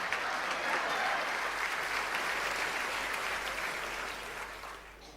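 An audience gives a big, sustained round of applause for director Rajmohan, even dense clapping that fades gradually toward the end, with no talking.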